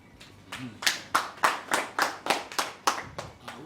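Slow, measured clapping from an audience at an event, roughly eleven crisp claps evenly spaced about three per second, clear and fairly close, with a faint voice briefly audible.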